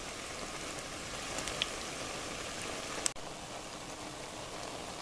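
A pot of dandelion greens boils on the stove with a steady, soft bubbling and fizzing, broken by a single sharp click partway through.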